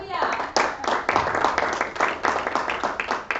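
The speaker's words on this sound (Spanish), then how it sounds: "Den un aplauso al rey" A church congregation at a Sunday service claps in rhythmic bursts, hands striking in an uneven beat, with voices mixed in underneath.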